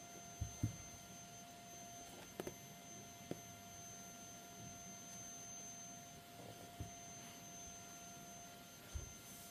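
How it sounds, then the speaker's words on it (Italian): A vacuum cleaner runs somewhere else in a house as a faint, steady whine and hum throughout, with a few soft knocks and taps nearby and no speech. "stanno lavando la casa con l'aspirapolvere"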